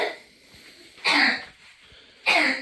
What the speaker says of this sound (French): il se met à tousser